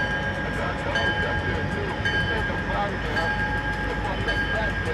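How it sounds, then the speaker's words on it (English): A CP work train tearing up track rumbles steadily past on the rails in Comber, Ontario, a continuous dense roar with faint metallic clatter, fairly close and loud throughout. "This is a work train."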